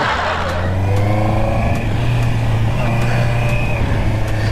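A Honda CBR650R with E-Clutch rides along in gear, its engine giving a steady, loud, close drone with no shifts or pauses.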